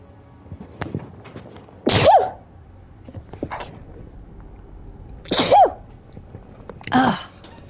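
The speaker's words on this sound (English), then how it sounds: "I have to sneeze." A person sneezes three times at intervals, each sneeze a loud, abrupt burst standing out against quiet background noise with faint small clicks.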